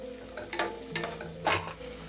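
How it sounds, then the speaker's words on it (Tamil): Garlic and onion sautéing in a pan for Chettinad fish kulambu, a soft sizzle under three quick scraping stirs of a spoon against the pan, close and fairly quiet, without speech. "8 பல்லு பூண்டை 2 கட் பண்ணி வச்சுருக்கேன், அதையும் சேர்த்துக்கலாம். இதே நல்லா வதக்கிக்கலாம்."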